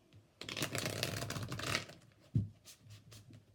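Tarot cards riffle-shuffled twice in quick succession, a fluttering crisp burst followed by a soft tap, close and fairly quiet.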